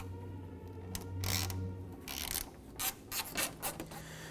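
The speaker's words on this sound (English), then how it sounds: "we're going to go ahead and remove these Torx bit screws" T20 Torx bit backing screws out of a 2010–2017 Chevy Equinox headlight trim panel: quiet ratcheting and rubbing clicks with a low motor-like drone at first, then sharper scraping bursts, close and faint.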